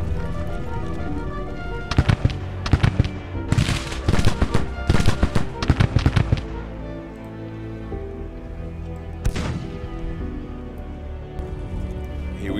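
Scattered rifle volleys from skirmishers in the Grand Tactician strategy game, a burst of sharp shots clustered early with a few isolated cracks later over a steady battle ambience and music bed.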